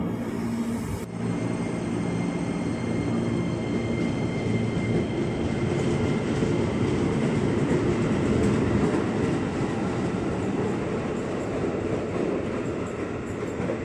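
KRL commuter train pulling out of Depok station, a loud continuous rumble of wheels and motors rolling past nearby for the whole stretch, with no talking.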